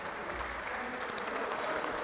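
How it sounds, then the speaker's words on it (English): A crowd at the 2012 US Open applauds Michael Gregan, a brief, steady patter of clapping at moderate volume. "They're begrudgingly applauding Michael Gregan."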